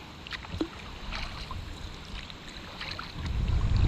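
Soft splashes and drips of a canoe paddle dipping into a river with a light current at an easy pace, with a low rushing swell building near the end.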